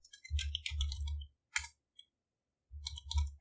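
Close computer keyboard typing while entering JavaScript code: quick bursts of key clicks in two clusters separated by a short pause, with a single isolated click between them.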